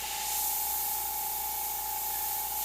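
Airbrush spraying candy red paint onto snake artwork, a steady close hiss of air and paint flowing continuously with no talk.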